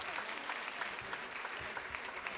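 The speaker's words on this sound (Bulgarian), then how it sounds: "Аплодисменти за него." An audience applauding at a song festival concert, a dense, steady wash of clapping from a crowd that holds evenly throughout.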